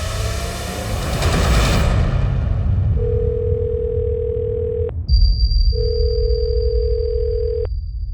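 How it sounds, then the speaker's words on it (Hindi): A telephone call goes unanswered in an Indian crime drama: long, steady electronic tones sound over a low rumbling background, one stretch ending and a higher, thinner tone starting after it. "राजेश फोन क्यों नहीं उठा रहे हैं?"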